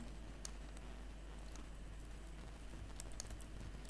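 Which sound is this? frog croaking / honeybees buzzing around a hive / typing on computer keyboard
typing on computer keyboard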